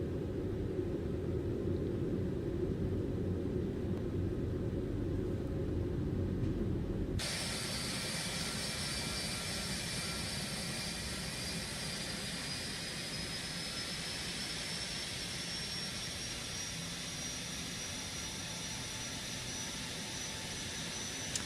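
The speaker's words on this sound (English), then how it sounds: "these are the Rolls-Royce engines. So the startup is a bit different, and it may not have the same sound as the GEs" A Rolls-Royce jet engine on a Boeing 777 spools up in a flight simulator, a deep rumble changing abruptly into a steady loud roar with a rising whine and broad hiss, no voices.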